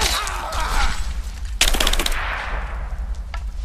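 Gunfire in the action game Rise of the Tomb Raider: loud, close bursts of rapid automatic shots, with a sharp volley near the middle trailing into scattered rounds.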